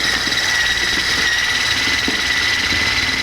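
An electric mixer whips cream cheese into whipped cream, a steady continuous motor whir with a bright high hum that holds without a break, close by and with no talking.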